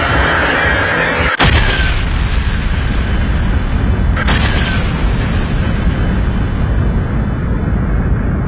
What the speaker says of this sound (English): eventually explodes in what is called a nova